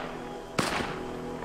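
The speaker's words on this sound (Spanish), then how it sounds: "Y andan a los tiros, no sé qué están haciendo" A single sharp gunshot from the video game Red Dead Redemption 2, one loud crack with a brief tail over a steady low background hum.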